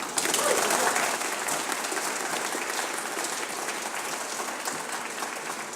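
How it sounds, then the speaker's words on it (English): Crowd applause at a law school anniversary ribbon-cutting celebration, a loud, sustained wash of clapping that holds steady for several seconds and eases slightly toward the end. "could we all just give another round of applause to our founding community partners?"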